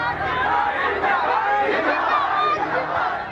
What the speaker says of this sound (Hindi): इस वीडियो में साफ साफ सुनाई दे रहा है कि भीड़ में पाकिस्तान जिंदाबाद के नारे लग रहे हैं